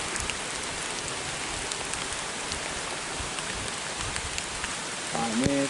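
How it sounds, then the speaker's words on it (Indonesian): Steady, even hiss of rain falling over a village of stilt houses, constant throughout at moderate level, with a short tonal sound rising near the very end. "Nah, ini suasananya lagi hujan ya."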